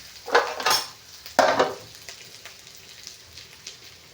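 Onions frying in a pan, with two short bursts of loud sizzling and scraping as they are stirred, then a faint, steady crackle trailing off, close and with no talk.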